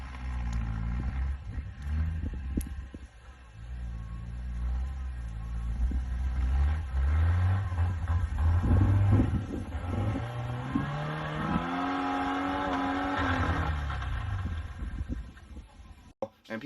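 A car engine revs hard shortly before the motor failed, with a low rumbling drone climbing and falling in pitch through several throttle sweeps. It sounds fairly distant and muffled, with background murmur throughout.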